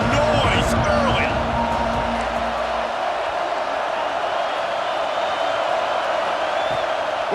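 Football stadium crowd at an Oregon versus UCLA game, a steady loud roar of many voices filling the bowl, with a commentator talking over it early on.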